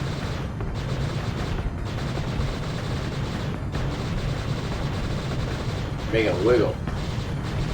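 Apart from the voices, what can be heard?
cannons firing in video game Panzer Dragoon II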